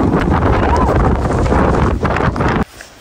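Strong typhoon wind in snowy Greenland buffets the microphone in a steady, loud roar that cuts off abruptly near the end.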